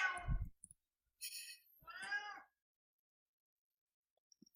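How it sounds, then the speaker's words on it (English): A real pet cat meows several times close by, two or three short distinct cries separated by silence, with a faint voice murmur at the start. "Sorry, that's my cat."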